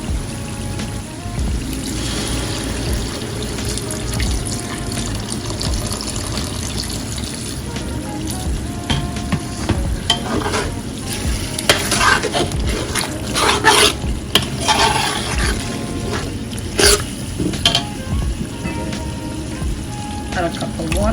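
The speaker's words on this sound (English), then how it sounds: "I'm gonna go ahead now and add the shrimp and crab broth to the pot" Shrimp and crab broth and a cup of water go into a pot of Liberian chicken and fish seafood stew, followed by steady stirring and sloshing with occasional clinks, heard close over a continuous background.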